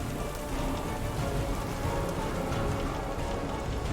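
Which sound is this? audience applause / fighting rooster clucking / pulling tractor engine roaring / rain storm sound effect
rain storm sound effect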